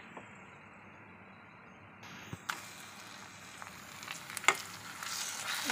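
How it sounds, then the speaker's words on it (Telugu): Sliced onions for chicken biryani roasting in a pan, with a faint steady sizzle that grows busier partway through and soft scraping stirs and clinks, no voices. "ఈ ఆనియన్స్ అంతా ఇప్పుడు వేసుకొని బాగా రోస్ట్ చేసుకోవాలి."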